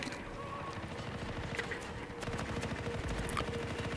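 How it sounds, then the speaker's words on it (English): Gunfire in the game Anthem rattles as dense, rapid bursts of automatic shots, continuous and moderately loud, with a muffled mix and some sharper cracks midway. "There was three of them shooting at you with their guns."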